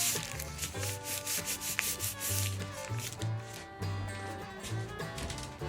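Dictionary paper laid over Mod Podge is rubbed down onto a flea-market decor piece, giving close, continuous scratchy rubbing strokes in an uneven rhythm with a faint musical bed underneath.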